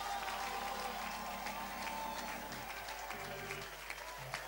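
Applause from a church congregation during a Pentecost sermon, a steady wash of many hands clapping throughout, with faint voices and murmuring underneath.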